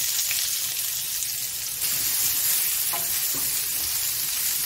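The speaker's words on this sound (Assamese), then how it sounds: "এয়া দিছোঁ তেল, লগতে পিঁয়াজ।" Sliced onion frying in a little oil for a catfish dish, a steady bright sizzle and crackle close by with occasional stirring scrapes, no talking.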